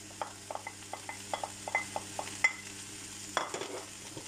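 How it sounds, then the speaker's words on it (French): Fried rice with meat, Chinese cabbage, corn and peas being stirred in a pan, a quick run of light scraping taps over a soft sizzle, then a louder scrape near the end. "Je vais touiller un petit peu."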